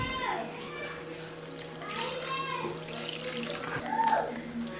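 Water is poured into a mixer jar holding grated coconut while making a chicken masala, giving a steady, close splashing trickle that swells and fades over a few seconds.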